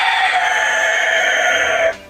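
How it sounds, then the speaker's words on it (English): A rooster crows once in a long, loud, sustained call that holds steady for about two seconds before cutting off abruptly, close to the listener. "The rooster is saying Happy New Year."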